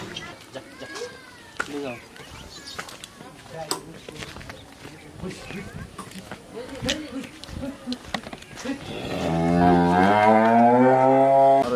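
Jersey dairy cattle of the Baghabari breed at a Bangladeshi dairy farm. Scattered speech and small noises come first, then a cow gives a long, loud, close moo that fills the last few seconds.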